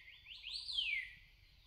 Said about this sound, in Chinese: 现在听到的是鹳羽画眉的叫声